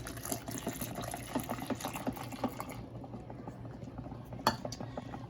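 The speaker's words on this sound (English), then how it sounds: "He's going to mix as I pour my water." Water being poured and stirred together while mixing a homemade baby wipe solution in a kitchen, with soft clinks of a utensil against the container and a steady liquid wash, fading to quieter stirring and one sharp clink near the end.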